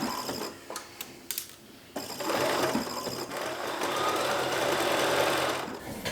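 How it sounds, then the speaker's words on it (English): A sewing machine stitches zigzag to attach elastic to a vintage petti slip, starting with a few short bursts and then running in a steady, rapid mechanical chatter. "I'm going to actually zigzag 2 times. So this is the first zigzag to attach it"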